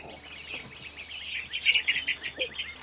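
Young meat chicks about two and a half weeks old chirp in a cluster of high, rapid peeps that build into a louder, busier flurry toward the end, close by with no talking.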